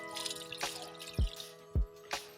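Ghee, previously used for frying koftas, goes into a kadhai in small spoonfuls, making a few soft, separate dripping plops over a faint background.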